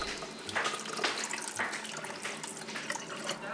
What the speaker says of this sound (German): Die guten Samen im Sieb unter einem Wasserstrahl reinigen.